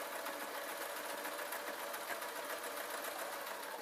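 An older type sewing machine stitches thin t-shirt fabric with a steady, continuous mechanical whir at moderate level, with no pauses and no talking.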